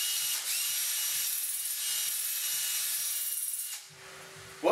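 Acrylic sheet being sanded with 800 grit sandpaper makes a steady, close rubbing hiss that runs for several seconds, then pauses briefly before a final stroke.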